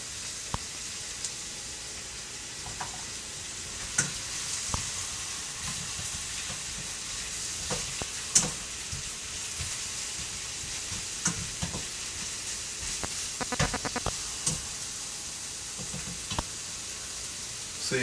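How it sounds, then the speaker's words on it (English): Mushrooms sizzle in a hot pan and are stirred with scattered scraping and clinking utensil knocks over a steady, hissing fry that carries on throughout, with no voices. "Alright, let's throw in some mushrooms."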